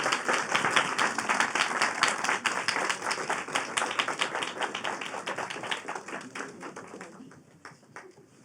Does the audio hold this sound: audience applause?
yes